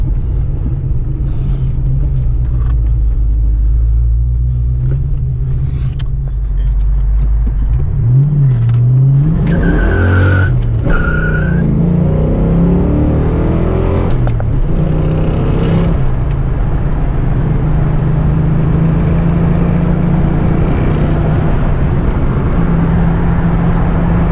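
A 1991 Ford Mustang LX 5.0 convertible's engine rumbles steadily from inside the cabin, rising in pitch as it revs and shifts through a 5-speed manual, loud and continuous throughout.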